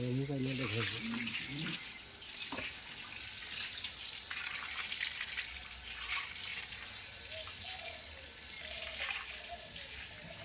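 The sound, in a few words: water washing algae out of a fish-farming tank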